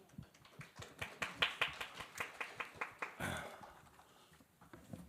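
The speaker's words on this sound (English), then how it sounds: "let's welcome them with a big round of applause" Faint, scattered hand claps from a small conference audience welcoming speakers, a brief run of distinct, evenly spaced claps heard from a distance that quickly thins out.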